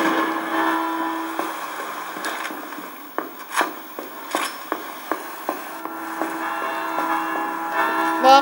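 A bell in the video game Resident Evil 6 rings in short, sharp strikes as it is shot, about eight separate dings spaced irregularly over a steady tonal background hum.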